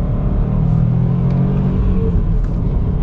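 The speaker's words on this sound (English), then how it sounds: "super easy to rev match with the car" Subaru STI engine rising and falling in a rev-matching blip, a loud, close, continuous rumbling drone with no voices over it.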